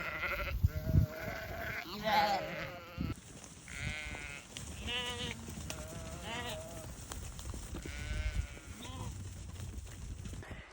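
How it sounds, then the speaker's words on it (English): A flock of sheep and lambs is gathered in for shearing on a farm, bleating repeatedly at moderate distance. Overlapping calls come in irregular bursts over a low outdoor background. "we're just getting the sheep and lambs in because we're shearing today"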